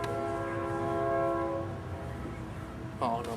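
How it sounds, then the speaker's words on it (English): A passing train sounds a sustained multi-tone horn for about a second and a half over a steady rumble of rolling cars, followed by a brief second horn note near the end. "choo-choo train going by now."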